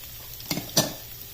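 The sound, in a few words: garlic, ginger and capsicum frying in a pan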